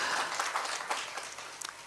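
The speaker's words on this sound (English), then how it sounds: "So let us give a big applause." Audience applause at a conference session on digital connectivity infrastructure in buildings, honoring an award-winning architect: soft, fairly distant clapping from a crowd, continuous over a couple of seconds with a few sharper claps near the end.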